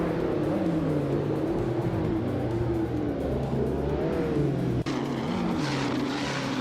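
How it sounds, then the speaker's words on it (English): Simulated race cars in a racing video game pack together at the Nürburgring start, led by a 1998 BMW M5 E39, their engines droning and revving continuously at close range, with a brief dropout near the end. "the race kicks off at Nürburgring"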